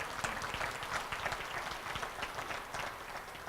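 Applause from an audience at a city's State of the City address, a steady wash of many hands clapping at moderate distance, sustained and fairly even throughout with no speech over it.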